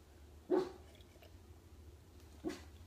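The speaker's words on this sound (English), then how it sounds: "Who are you barking at? Stop." Two faint, distant barks from a dog, about two seconds apart, over a low background hum.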